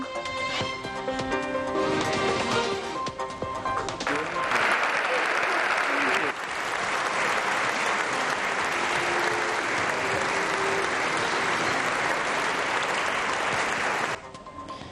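Deputies in the Portuguese Parliament applaud as the President of the Republic enters the session hall under the dome, dense sustained clapping that swells, eases slightly partway, then runs on before cutting off near the end.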